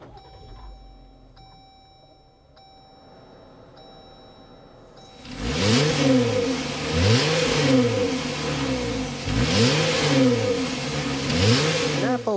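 A 2024 Jeep Wrangler Rubicon X with a 3.6-liter naturally aspirated V6 sits quiet under a soft warning chime, then fires up and settles into a loud idle, with four rising revs swelling and falling close by.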